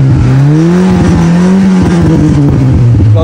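A Toyota Corolla project car engine revs hard, a loud, close, raspy roar whose pitch climbs, dips and rises again, with crackling pops throughout and no talking.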